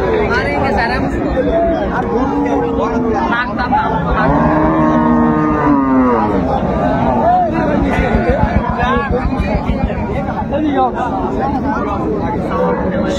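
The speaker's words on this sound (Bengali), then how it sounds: "ষাঁড় বাচ্চা।" A bull calf at a busy cattle market, with constant crowd chatter and people talking over the scene and scattered animal calls blending into the loud hubbub.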